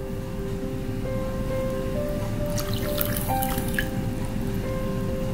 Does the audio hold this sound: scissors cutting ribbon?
no